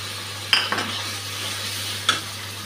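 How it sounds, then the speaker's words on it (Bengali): Mixed spice paste with onion, green chilli and bay leaf frying in a pan for a catfish curry, a steady soft sizzle with a couple of brief stirring scrapes, close and alone. "মশলাটা খুব ভালো করে ভেজে নিয়েছি,"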